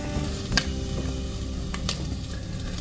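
Chicken breast fries in a hot pan with a steady, close sizzle, and a couple of faint utensil clicks as pieces are turned.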